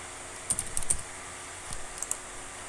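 Several quick computer keyboard key presses come in two short bursts during a coding session, close and crisp against a quiet room, with a gap of near silence between them.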